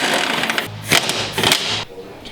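An impact wrench removes the bolts holding a car's strut into its tower during a lowering-spring install, firing loud, close, buzzing rattles in two short bursts split by a brief pause.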